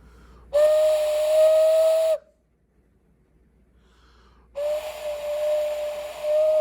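A clay whistle fitted with a reed and mouthpiece plays two long, steady, bright tones separated by a short silence, each held for about one and a half to two seconds, close and clear.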